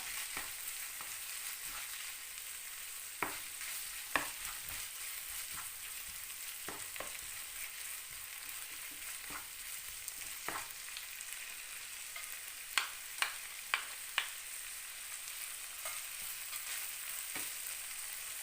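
Tomatoes stir-fried in a pan for Thai nam prik ong give a steady, fairly quiet sizzling hiss throughout, broken by scattered sharp clicks and taps of the utensil against the pan, with no talking.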